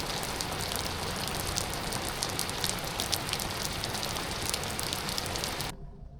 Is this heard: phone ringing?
no